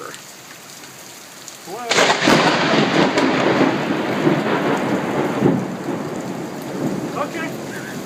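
Heavy rain pours steadily during a thunderstorm at a workplace, with a loud thunder crash near two seconds that rolls on under the downpour; a person briefly exclaims.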